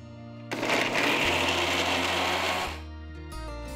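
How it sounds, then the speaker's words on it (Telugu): A mixer grinder whirs loudly at close range for about two seconds as it grinds soaked dried red chillies in its jar, then winds down to a lower motor hum. "నానబెట్టిన ఎండుమిరపకాయలని ఒక మిక్సర్ జార్లో వేస్తున్నాను"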